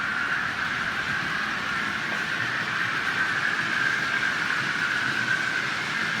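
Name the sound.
model railway train running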